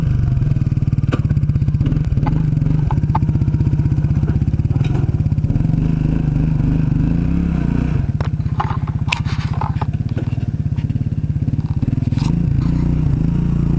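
ATV engine revving hard while the rider pops wheelies, a loud, close, continuous low rumble with rough scraping and rattling over it throughout.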